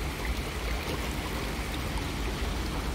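Water flows continuously at a lake in Switzerland, a dense, steady rushing wash with no breaks, fairly loud and close, with no voices.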